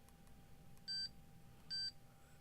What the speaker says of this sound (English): As soon as it hits a spot, it gives one beep, but it doesn't stay on.